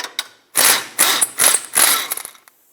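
A ratchet wrench and socket work a bolt loose during a rear shock absorber replacement on a 2007-2010 Chrysler Sebring. It gives a few quick clicking bursts up close, with short pauses between strokes.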